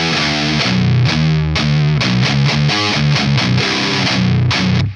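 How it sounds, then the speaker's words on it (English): Loud, heavily distorted electric guitar at full gain, a modern metal tone, chugs chords in a steady rhythm, thick and buzzing, then cuts off abruptly at the end. "Listen to this distortion."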